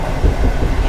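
Inside a moving IC Szkuner train carriage, a steady low rumble and rolling rail noise fill the cabin, loud and continuous throughout.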